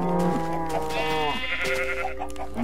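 Sheep bleating in the video game Minecraft, a few wavering bleats in quick succession, close and clear with no talking.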